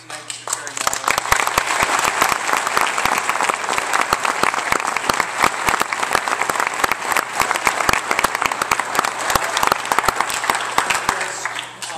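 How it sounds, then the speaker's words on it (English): An audience applauds student teachers in a long, sustained round of clapping, with many distinct close hand claps over a dense background patter, ending abruptly; a low steady hum runs beneath. "can we have one more round of applause for our student teachers and others for sharing that?"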